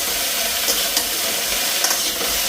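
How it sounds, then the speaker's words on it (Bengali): Spices sizzle lightly in a hot wok with a steady, close frying hiss and faint crackles, with no one talking. "একটু হালকা ফ্রাই হোক"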